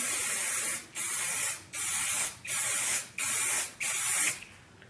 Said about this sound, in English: I'm gonna spray this down one more time.